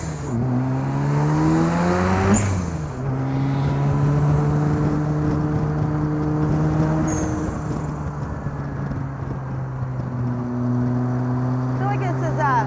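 A home-built Lotus 7 replica with a 400 hp turbo RX7 rotary engine drives hard, its loud, buzzing engine note rising and falling through gear shifts near the start and again late on, with a voice briefly present.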